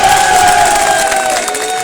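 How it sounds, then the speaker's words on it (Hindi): Crowd at a political rally in Una, India, roars and cheers loudly in a dense, sustained wave of shouting voices with some clapping, close and filling the space. "तीन लगी तो तीसरी ताली मेरे लिए बजा दो।"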